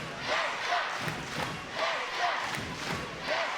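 A home crowd at a basketball game between Cheshire and Bristol roars in waves, loud sustained crowd noise swelling and dipping, with a commentator's voice faintly under the din.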